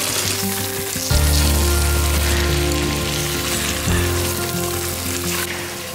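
Chicken pieces sizzle in a pan of spice paste with coconut paste, a steady close-up frying hiss that jumps louder as the pieces go in, with a low hum underneath and no talking.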